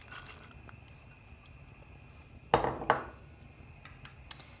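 Onions tipped into a pot of beef stew, landing in two quick close thuds with a brief rattle, then light clinks against the pot.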